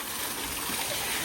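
A garden water fountain sprinkler sprays, producing a steady, close hiss of water with no clear breaks through the short moment.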